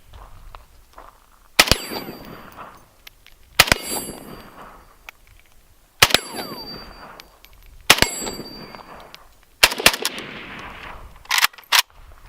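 Unsuppressed 7.62x39 rifle shots ring out at an outdoor range, each crack followed by a ringing clang off a stainless steel plate; about six evenly spaced shots, the last two in quick succession, loud and close.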